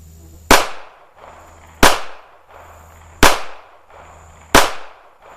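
Four sharp shots from a Smith & Wesson Bodyguard 2.0 .380 pistol crack out at an outdoor range, evenly spaced about a second and a half apart, each with a short fading echo.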